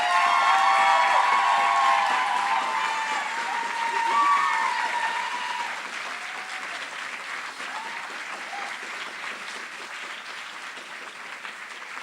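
Sustained applause with some cheering fills a university prize day award ceremony, loud at first and gradually thinning, with a voice briefly heard over it.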